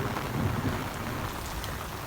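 Heavy monsoon downpour during the rainy season, a dense continuous hiss of rain on surfaces, steady and fairly loud throughout with no voices.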